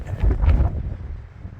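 Wind buffeting a microphone on Mount Pierce at 4,200 feet, a short burst of low roaring gusts that peaks then fades, close and fairly loud.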